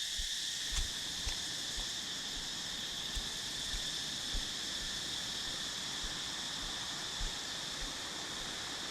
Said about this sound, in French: Il y a beaucoup d'insectes dans cette Asie du Sud-Est.